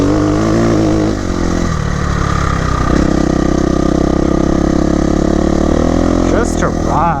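A KTM 350 EXC-F dirt bike engine hums and drones close by while being ridden, steady with shifts in pitch as the throttle changes and a brief rise near the end, with wind noise and a voice speaking over it.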